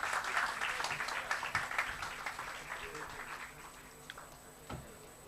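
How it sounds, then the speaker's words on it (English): Audience applause at a technology quiz final, moderate clapping that gradually thins and fades out, with scattered claps near the end. "so round of applause,"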